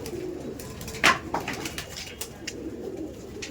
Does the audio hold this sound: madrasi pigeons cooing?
yes